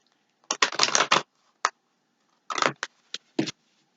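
A deck of cards is shuffled for a card reading. Crisp riffling bursts come in short clusters with brief pauses between them, close and fairly loud, and there is no talking.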